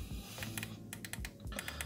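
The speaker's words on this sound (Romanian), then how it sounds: "Click de 5 ori pornește" Sharp plastic clicks from the fire button of a Wismec Reuleaux Tinker vape mod, pressed in a quick close-up series of about five taps, with no talk.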